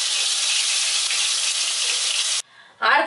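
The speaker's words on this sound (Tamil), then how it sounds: "தக்காளி சேர்த்துட்டு இதையும் நல்லா வதக்கி விட்டுக்கலாம்." Tomatoes sauté in hot oil in a pan for a garlic, chilli and tomato chutney, making a loud, steady sizzle that stops suddenly and then returns after a brief pause.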